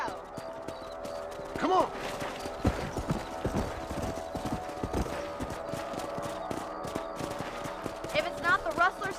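Horse hooves clip-clop at a steady riding pace in the Western video game Red Dead Redemption, with a brief snort or whinny, other game effects and a short spoken shout over the hoofbeats.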